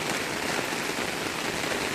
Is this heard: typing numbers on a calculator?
no